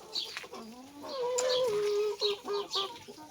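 Chickens and roosters cluck and squawk in a hot yard, one bird's drawn-out call followed by several short clucks close by.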